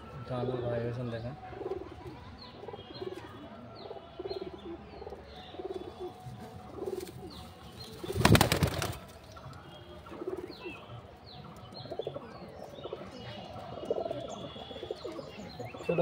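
A pair of pigeons that have laid eggs coo repeatedly up close, low rhythmic bubbling calls with a sudden loud wing flutter midway and a person speaking at times.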